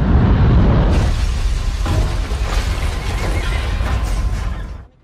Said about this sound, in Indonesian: Tiba-tiba, sebuah komet yang cukup besar jatuh ke bumi dan terjadi ledakan lagi.